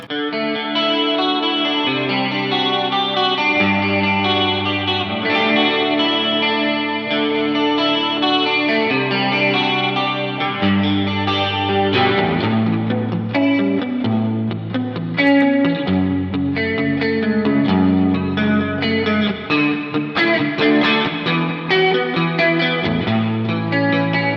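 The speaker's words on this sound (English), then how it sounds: "if I'm doing something with an 80s inspired sound, I have the chorus on tap as well" Electric guitar run through a shimmering chorus effect, playing sustained chords and a moving bass line with a warm, wavering, slightly distorted tone.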